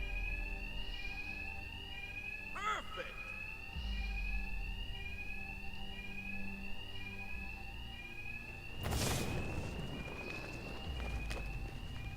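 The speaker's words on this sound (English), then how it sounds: "Two-Face's thugs won't hear me over the alarm." A repeating electronic alarm rings steadily through a building in the video game Batman: Arkham Knight, with footsteps and a loud burst of impact noise near the end, plus a brief spoken exclamation.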